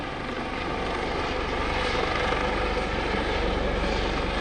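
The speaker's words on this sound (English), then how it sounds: "The pilots will maneuver the helicopter back into position" US Coast Guard search and rescue helicopter hovering at an airshow demonstration over Greenwood Lake, a steady, loud rotor and engine drone with a fine rhythmic chop, heard alone.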